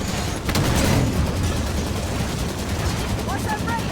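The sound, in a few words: gunfire at a Scorpion tank, from the video game Halo 5 Guardians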